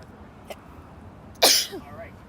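A single sharp sneeze bursts out close by after a faint earlier sound, followed by a brief trailing voice.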